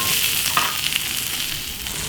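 Onions frying in oil on a hot grill plate, a steady broadband sizzle with faint crackles throughout, close and continuous with no talking.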